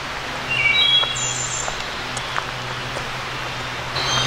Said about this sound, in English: Oh, there's that wood thrush again.